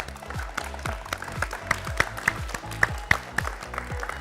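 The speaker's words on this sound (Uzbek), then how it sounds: "Qoyil qarsaklar" A game show audience applauds after the Burgutlar team wins a point, with brisk clapping over a pulsing, repeating beat at steady volume.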